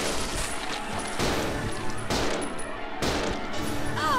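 Steady close gunfire from the character Billy in Resident Evil Zero HD Remaster, heard as repeated loud volleys in even bursts about one second apart, with constant game noise underneath.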